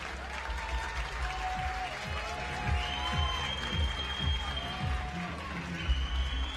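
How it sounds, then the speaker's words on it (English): A large crowd cheers and applauds at a recurve men's bronze medal archery match at the 2019 World Cup in Antalya, with a steady roar of clapping and shouts, a few whistles, and repeated low thumps throughout. "I think you can hear the crowd going wild here"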